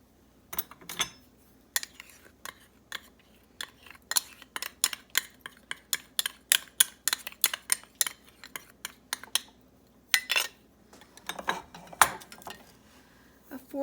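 Sugar, cocoa, cornstarch and salt stirred together in a bowl, giving a steady run of sharp spoon-on-bowl clinks and scrapes in quick irregular bursts, fairly close and moderately loud, with no talking.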